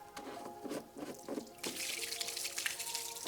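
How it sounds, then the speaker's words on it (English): Dirty water drains out of a sink-like basin after washing a car floor mat, a close, steady gurgling rush following a few scattered splashes. "Let's let all the water out and see how dirty it is."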